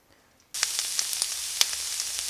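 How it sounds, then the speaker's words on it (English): Chicken taquitos drop into hot oil and a loud, steady sizzle bursts in after a moment of near silence, with small crackling pops throughout. "And the oil is hot, just like that, okay? We're just gonna let them fry."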